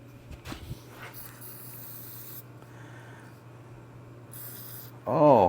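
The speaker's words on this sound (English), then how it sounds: "We're going to spray a little stuff on this." Cleaner sprayed onto brake parts from a 1985 Honda 200X, heard as two separate hissing bursts from a nearby aerosol can with short pauses between them, followed by a brief loud voice at the end.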